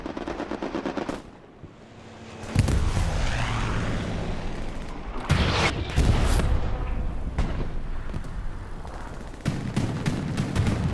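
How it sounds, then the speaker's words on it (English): In Hell Let Loose, a rocket blasts into an alleyway amid heavy gunfire, with a sharp loud explosion, rolling booms and crackling bursts of automatic fire around it. Near and far shots follow. "Oh, rocket lands in the alleyway."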